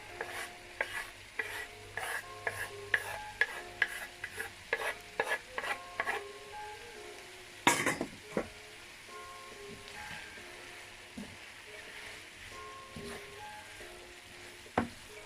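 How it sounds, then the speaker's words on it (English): Fresh vegetables stirred with cabbage and corned beef in a frying pan for a Jamaican-style dish, with repeated scraping spatula strokes and a soft sizzle, close by, plus one louder clatter midway. "Now I'm going to add the rest of the fresh vegetable."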